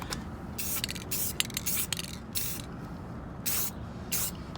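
Several short hissing bursts from a spray can coating the exhaust hangers of an Acura TSX, evenly spaced over a low steady background rumble.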